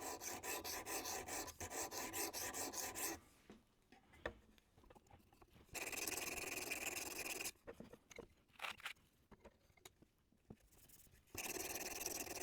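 A Magnus broadhead is rubbed against a sharpening stone in long stretches of steady gritty rasping strokes, with quieter gaps of scattered scrapes and handling noise between the passes.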